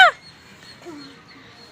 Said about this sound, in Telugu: కాకి వచ్చింది